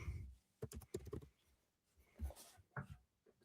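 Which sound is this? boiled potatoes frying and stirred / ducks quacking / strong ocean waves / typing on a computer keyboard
typing on a computer keyboard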